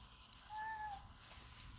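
A cat meows once, a short tonal cry with a rising then falling pitch, moderately near against a quiet background hum.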